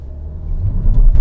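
A 2022 Audi A3 Sedan drives along the Estrada dos Romeiros, giving a low road rumble and engine drone that steadily swells louder over a short stretch with no talking.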